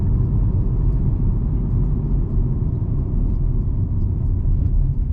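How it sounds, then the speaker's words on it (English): A truck engine rumbles low and steady throughout, a heavy continuous drone with no clear break or rev change to mark a double clutch gear shift. "Quick, clutch it out of gear and then clutch it into gear."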